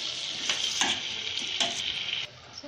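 Veg manchurian pakoda balls dropped one by one into hot oil, a continuous bright sizzle with bursts as each ball goes in, close and alone without talk.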